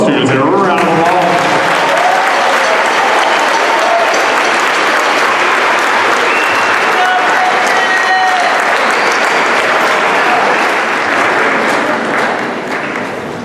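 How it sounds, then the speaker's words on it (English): Loud, sustained crowd applause for students at a middle school spring band concert, with cheering and voices mixed in, fading slightly near the end. "Can we give all of those students a round of applause?"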